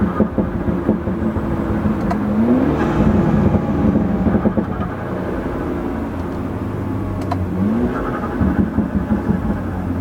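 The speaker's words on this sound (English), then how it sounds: "Here, we'll do some downshifting up here." A BMW F30 with a flashed transmission runs on the road, its engine droning steadily with two quick rev blips as it downshifts, heard from inside the cabin under constant road and wind noise.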